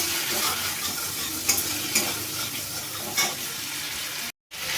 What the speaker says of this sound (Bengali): এবার ফোড়নটা একটু ভেজে নেব